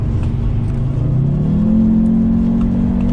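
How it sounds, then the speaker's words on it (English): An Audi TTS sports car engine revs loud and close from inside the car, its note climbing partway through and then holding a sustained, rising drone. "Listen to that engine roar!"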